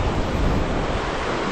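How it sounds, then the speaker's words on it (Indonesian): Ocean waves break on the beach at Kuala Matu, a steady, loud wash of surf mixed with wind rumbling against the microphone, with no voices. "Kita tengok pantai dia sini."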